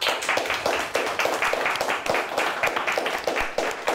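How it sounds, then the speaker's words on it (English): A studio audience at a high school quiz show claps for a team, a steady, fairly loud round of applause with dense overlapping hand claps throughout and no voices on top. "Let's give them a nice round of applause."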